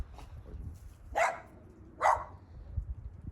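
A couple of dogs bark outdoors at an abandoned lot, two sharp, fairly distant barks about a second apart over low rumbling background noise.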